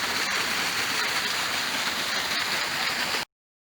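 Santa Bárbara waterfall flowing near a fern-covered spot, heard as a steady, loud, broadband rush of falling water that runs unbroken and then cuts off abruptly.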